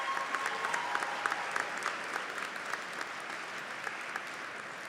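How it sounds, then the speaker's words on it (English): Graduating high school seniors at a Class of 2023 graduation ceremony applaud their parents and families, a sustained, even crowd of clapping with scattered sharper individual claps standing out, moderately distant and continuous. "Seniors, please take a moment to offer your parents and families a round of applause for their support."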